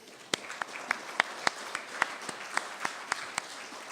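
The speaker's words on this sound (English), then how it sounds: "Maybe we can applaud him in absentia." A thin, scattered round of clapping from a small academic audience at a 2016 prize ceremony: a dozen or so distinct, fairly faint claps spaced through a few seconds, with no one speaking.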